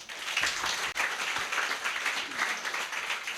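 A church congregation at a Sunday worship service applauding, a dense, steady wash of many hands clapping throughout, fairly loud and close, with faint voices mixed in.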